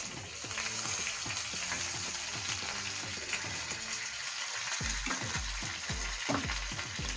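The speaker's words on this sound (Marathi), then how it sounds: "कढीपत्त्याची पानं टाकायचे" Curry leaves with mustard and cumin seeds crackling in hot oil, a dense continuous sizzle full of rapid pops, loud and close, with no talking.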